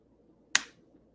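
A single sharp hand clap given as an audio sync test, crisp and close, standing alone against near silence.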